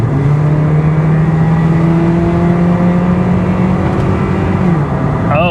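BMW e36 318i engine pulled hard through the gears, a loud sustained in-car drone climbing steadily in pitch, dipping briefly at a shift before rising again, continuous throughout.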